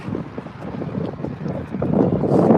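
Strong wind buffets a microphone outdoors on a winter day in Oklahoma, a continuous rough rumble that grows louder toward the end, with no speech.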